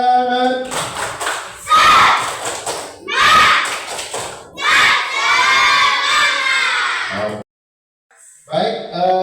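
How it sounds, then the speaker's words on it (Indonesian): A classroom of children performs a spirited rhythmic clap-and-cheer routine, loud bursts of chanting, shouting and clapping in close quarters, breaking off abruptly into a short silence before voices resume. "Tepuk semangat."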